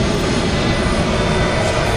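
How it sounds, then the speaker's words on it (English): Embraer medium-sized Brazilian military transport aircraft at the Farnborough airshow, its engine giving a loud, steady, broadband roar that stays constant throughout with no voices. "Medium-sized transport aircraft, originated in Brazil."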